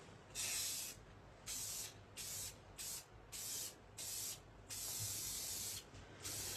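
A light coat of finish sprayed onto a firearm during restoration, heard as about eight close, loud hissing bursts of varying length separated by short pauses, with no talking.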